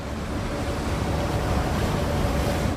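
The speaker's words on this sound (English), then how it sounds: "That's a water taxi, I guess." A water taxi passes on Sydney Harbour, heard as a close, rushing wash of water and engine noise mixed with wind, steady and fairly loud for a few seconds.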